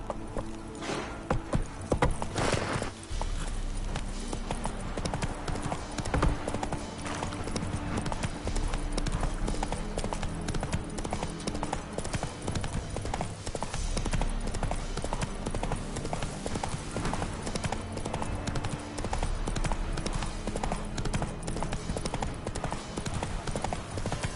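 Horse hooves clip-clop steadily in The Witcher 3, a continuous rhythmic trot that stays close and fairly loud over a dense game soundscape for the whole stretch.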